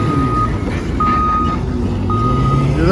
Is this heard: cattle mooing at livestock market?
no